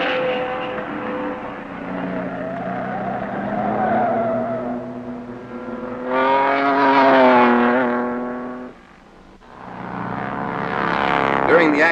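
Flame-red Ferrari race cars roaring through the hills at about 90 miles an hour in the 1954 Carrera Panamericana, engine notes rising and falling as they pass, partly under a narrator's voice.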